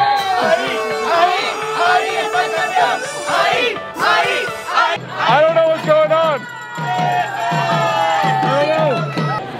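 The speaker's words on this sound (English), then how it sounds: "I just showed up here and everyone started cheering." A group of people cheering and shouting excitedly, close and lively, with bursts of voices and chatter overlapping throughout.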